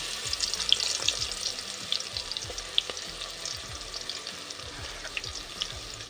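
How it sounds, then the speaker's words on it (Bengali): Steady sizzling of garlic frying in hot oil with whole spices, with crackles and pops scattered throughout and occasional faint clinks of a utensil. "ফোড়নটা ভাজা হয়ে এসেছে এর মধ্যে দিয়ে দেব রসুন"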